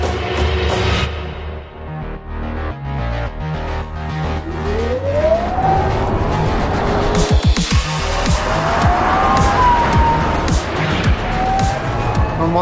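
Rimac C_Two electric hypercar prototype testing at Grobnik racetrack, a continuous loud drive with rising whine sweeps, tire squeal and passing surges, close and sustained throughout with no talk.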